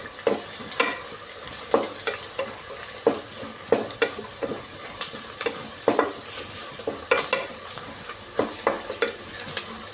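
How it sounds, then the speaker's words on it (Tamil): Onions and green chillies saute in a pan with a low continuous sizzle, broken by repeated scraping stirs of a spatula at an irregular rhythm. No voices are heard. "இந்த வெங்காயம், பச்சை மிளகாய் இதெல்லாம் வந்து நல்லா வதங்கிட்டு ஒரு கோல்டன் ப்ரௌன் கலர் வர வரைக்கும் இதை நல்லா நம்ம வதக்கிக்கணும்."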